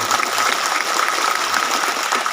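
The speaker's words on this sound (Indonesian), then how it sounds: "Kita berikan tepuk tangan dulu kepada" An audience claps together in a steady burst of applause at a military regional command's national-awareness gathering, dense and close, holding throughout without a break.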